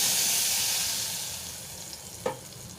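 Steady sizzling and crackling of onion, tomato paste, garlic paste and fennel sautéing in hot oil, with a brief clink or stir near the end.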